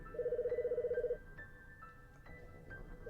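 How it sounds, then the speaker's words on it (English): A telephone rings in the Famicom Detective Club video game, a rapid warbling electronic trill lasting about a second, followed by soft game music tones. "There goes the phone."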